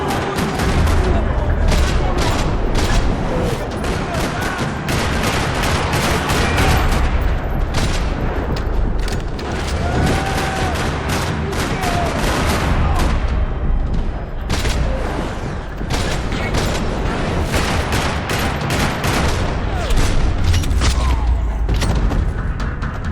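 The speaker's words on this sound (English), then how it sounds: "Another parking lot rattling with gunfire." Max Payne 3 video game parking lot firefight: dense, sustained bursts of gunfire and booming shots ring out continuously, with voices intermittently heard amid the shooting.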